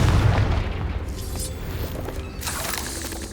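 A Confringo explosive spell goes off in the Hogwarts Legacy video game, a booming blast with a burst of crackling debris, followed by a second, smaller burst a moment later over rumbling game ambience.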